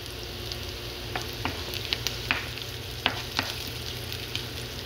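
Garlic and onion sauté in a pan for ginisang munggo, making a steady close sizzle broken by light clicks and taps of a spatula stirring.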